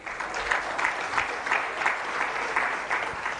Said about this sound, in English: kindly let us give the PS a bigger round of applause.